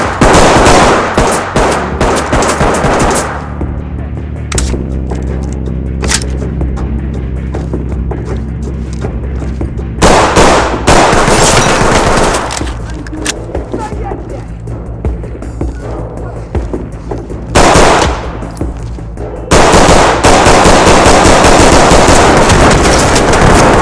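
Bursts of rapid gunfire in the tactical shooter game Ready Or Not, loud and dense, broken by short pauses between volleys.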